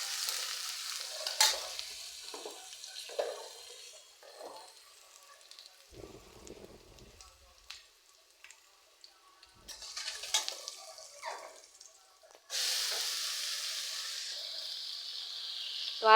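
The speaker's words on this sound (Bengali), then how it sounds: "এখানে পাতাকপি ভাজিটা বসাবো।" Shredded cabbage fries in a hot pan with oil, with intermittent scraping stirs and crackling sizzles that settle into a loud, continuous sizzle toward the end, close and with no talk.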